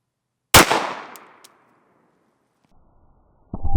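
One sharp gunshot as a new HST hollow point bullet is fired into a gel block; a loud crack with a long fading ring, then another abrupt loud onset at the very end.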